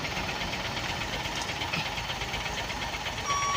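A trailer truck's diesel engine runs with a steady, continuous rumble and vibration, building gently as it pulls away, with faint beeping tones near the end.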